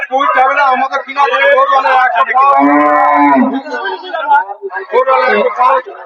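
Cows and heifers at a busy village livestock market give a loud, drawn-out low moo up close, with chattering voices around it.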